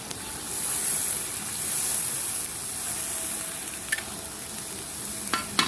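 Dried red chili and ground cumin paste frying in hot oil for a meat curry, a steady loud sizzle with stirring scrapes and a couple of sharp clinks, no voices.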